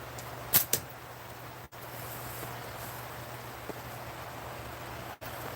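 Steady rain falls outdoors during slingshot shooting, a constant soft hiss throughout with two sharp snaps near the start.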